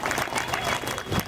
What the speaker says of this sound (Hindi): ताली बजा के स्वागत करें इनको